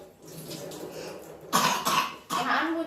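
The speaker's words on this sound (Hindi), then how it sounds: "जानबूझ के आप दिखाने के लिए खांसेगा वहाँ पे।" A child coughs at home, two or three harsh, loud coughs close by after a quieter stretch of room noise, each burst short and raspy with no talk over them.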